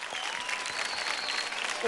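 Studio audience on a dance and comedy show breaks into steady, dense applause, a continuous wash of clapping at even volume throughout.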